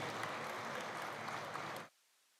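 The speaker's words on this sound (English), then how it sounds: "please have a huge round of applause to once again welcome Major General Yogesh Chaudhary ji." Audience applause at a university fest welcoming a Major General, a dense wash of clapping that cuts off abruptly near the end, leaving silence.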